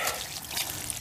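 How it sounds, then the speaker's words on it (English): Water runs from a garden hose onto crop rows to flood them, a steady soft splashing and trickling with no talk. "We've got the water hose."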